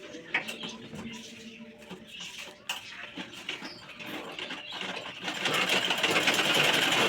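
A sewing machine stitches a shirt at a tailoring table, its fast, steady whirring running continuously and growing louder and denser toward the end, with faint background clatter.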